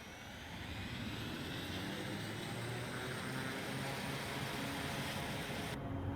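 AT-802 Air Tractor crop-duster in Microsoft Flight Simulator 2024, a continuous broad engine and propeller drone heard from outside the plane, steady and moderately loud throughout with no talking.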